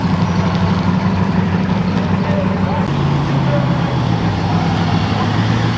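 A 1969 Ford F250 crew cab truck engine with a hot tune runs steadily up close, a loud continuous low rumble with a slight drop in pitch about halfway through.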